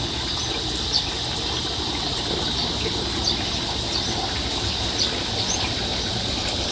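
Continuous rushing water, a steady broadband gush like a small waterfall, fairly close and unbroken, with no talking.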